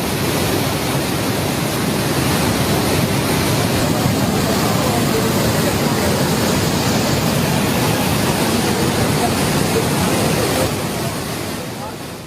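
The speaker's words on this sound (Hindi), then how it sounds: "ये ककोलत का झरना है जहां लोग नहाने जाते हैं गर्मी में" The Kakolat waterfall roars after heavy monsoon rain, a loud, dense, unbroken rush of falling water close by that dips slightly only at the very end.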